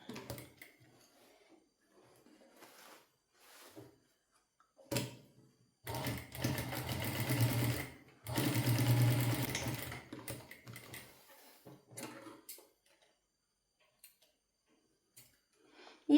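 A sewing machine stitches the back panel of a blouse in intermittent bursts, with short runs early on and two long, steady stitching passes in the middle, close and fairly loud, separated by quiet pauses with no talking.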